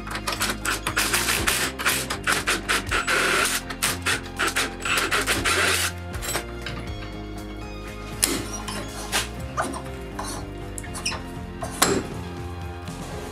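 A 9/16 wrench works the rear leaf spring shackle bolts on a Club Car DS golf cart, giving a fast run of metallic ratcheting clicks, then slower scattered clinks and taps up close.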